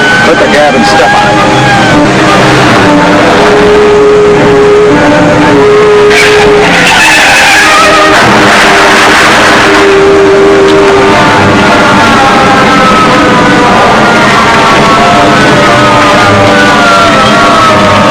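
Car engine roaring at speed during a chase, with tires squealing and skidding in loud sweeping bursts over a constant dense roar from start to finish, while voices are faintly mixed in beneath.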